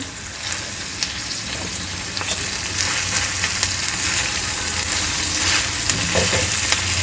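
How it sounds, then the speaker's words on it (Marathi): Wild leafy greens are stir-fried over high flame in a pan with cooked potatoes, giving a loud, continuous close-up sizzle with soft scraping and stirring sounds layered over it. "ही थोडी थोडी घालून परतवायची आपल्याला"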